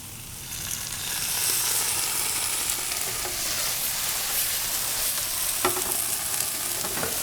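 Tomato sauce poured over wilted mushrooms in a hot pan, a loud steady sizzle and frying hiss that swells as the sauce hits, with a few stirring scrapes and no talking.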